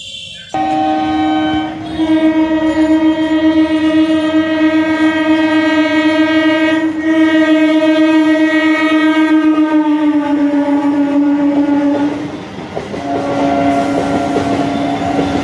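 A local train on the Howrah–Bardhaman main line passes close by with a long, loud sustained horn blast over the rumble and clatter of the carriages, the horn dipping briefly near the end before sounding again.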